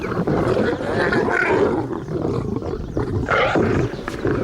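A lion roars loudly and continuously, a deep rumbling growl that swells and rolls for several seconds, close and alone with no talk.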